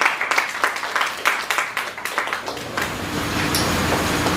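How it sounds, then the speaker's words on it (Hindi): An open mic poetry audience claps to welcome a performer, scattered individual claps at first that thicken into a steady, close round of applause. "एक बार जोरदार तालियों से स्वागत कीजिए।"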